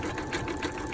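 A Brother Innovis 2800d embroidery machine stitches with a steady, fast, rhythmic mechanical whir and repeated needle thumps, close and moderately loud, with no voices.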